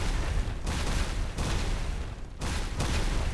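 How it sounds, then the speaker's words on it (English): Video game explosions boom in a dense, continuous barrage, with heavy rumbling blasts that keep rolling with only brief gaps. "I imagine the explosion sound is going to get very annoying."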